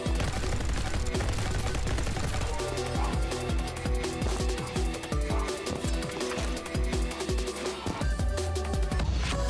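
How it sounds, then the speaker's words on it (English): Rapid machine-gun card fire in the video game Neon White, a fast stream of punchy shots rattling over loud driving music, sustained for most of the stretch. "Fires like a machine gun."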